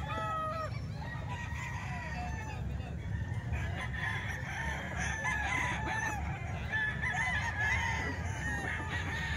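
Many chickens and roosters at a rooster market in Bukawi, repeated crowing and clucking from several birds at varying distances over a steady crowd murmur and background voices.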